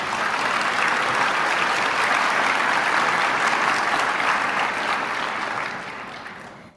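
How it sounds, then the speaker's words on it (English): A seated audience gives dense, sustained applause to honor chefs and wait staff at a banquet, holding steady throughout before tapering off in the last second. "ask you to give them all a round of applause."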